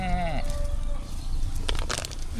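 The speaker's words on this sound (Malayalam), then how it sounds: "ഇവിടെ കുറേ ആട് വന്നിട്ടുണ്ടേ നമുക്ക് ആടിനെ കാണാൻ പോവാം" A goat bleats once near the start, a wavering cry, followed by rustling and shuffling noises nearby.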